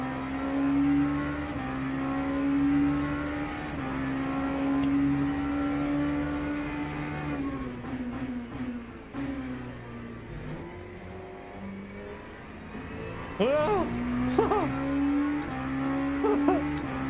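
An LMP2 race car engine drones in Le Mans Ultimate, a steady close whine that shifts pitch through gear changes and then revs up sharply near the end, with no voices.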